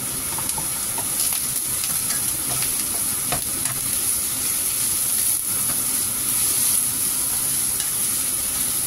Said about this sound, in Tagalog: pwede na natin ilubog ang ating mushroom